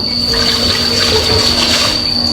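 Running water pours steadily from a tap while food is washed, a loud continuous gush over the whole moment.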